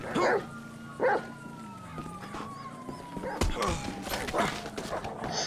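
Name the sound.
dog barking in a video game (GTA, Los Santos)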